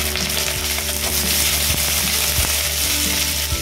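Onions and dried red chillies sizzle in hot oil in a wok, a steady loud frying hiss with occasional soft clicks of stirring throughout.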